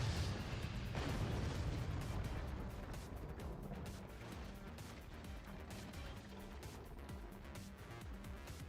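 In the Forts strategy game, standard cannons and howitzers fire in a dense stream of booms and crashing impacts, loud at first and then settling into a continuous rumbling barrage.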